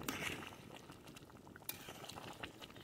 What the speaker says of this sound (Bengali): অল্প করে দিদিয়া নেড়ে নিচ্ছে